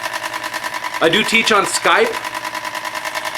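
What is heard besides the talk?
electric fan running noisily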